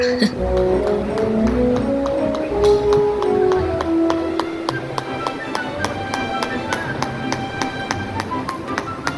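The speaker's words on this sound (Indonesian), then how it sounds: "Suara ketok palunya yang bertalu-talu seolah irama yang mungkin meninabobokan mereka." Steady rhythmic tapping of massage hammers in Hat Yai, Thailand, many quick evenly spaced knocks repeating throughout, with a person talking over the first half.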